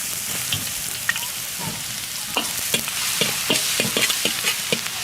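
Minced garlic and ginger sizzle in hot oil in a wok, a steady frying hiss broken by frequent crisp pops and stirring scrapes, close and unbroken by talk.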